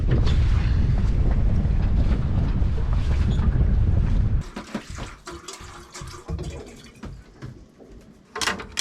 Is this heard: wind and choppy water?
yes